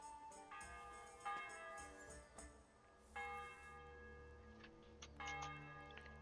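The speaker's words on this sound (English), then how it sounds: "I heard a bell." A church bell in the medieval game Kingdom Come: Deliverance tolls in several separate ringing strikes, each leaving a long, shimmering hum, fairly faint and distant, with no talk over it.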